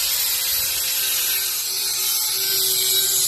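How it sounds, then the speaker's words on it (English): A grinder putting a bevel on the steel wedges of a combat robot, a loud continuous high-pitched whine with steady hissing grit, close and unbroken. "So he's putting a bevel on the edges"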